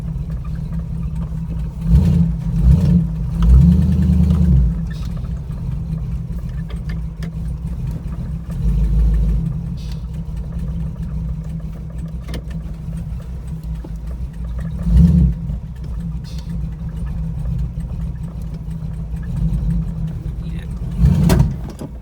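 A carbureted car engine rumbles on the road, swelling in several throaty bursts of throttle between stretches of steady running, heard up close inside the car.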